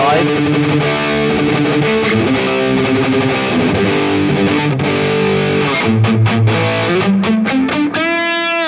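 Distorted electric guitar played through an amp on a live preset without enhancer, sustained chords and riffs with a thick, dark tone, ending on a ringing chord.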